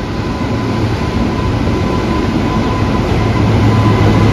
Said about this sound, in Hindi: आपको ट्रेन दिखाता हूँ एक बार।